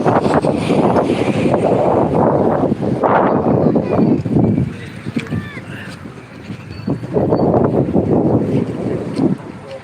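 Wind gusts roar and buffet a microphone outdoors near water, loud and continuous with surging peaks and lulls, while a voice speaks intermittently over the rushing noise.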